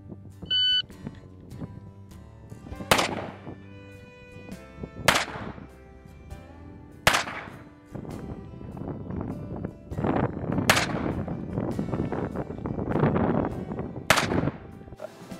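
A timer beep followed by shots from a Smith & Wesson 625 revolver at a shooting competition: six loud, sharp reports spaced about two seconds apart with ringing decay, then clattering handling noise between the last shots.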